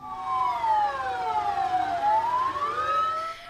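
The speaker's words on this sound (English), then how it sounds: "Rescue workers and other people stood still as they heard sirens and car horns bellowing for 1 minute" Emergency sirens wailing after an earthquake, a loud, sweeping rise-and-fall tone with several overlapping siren voices, steady and fairly close, with no talking.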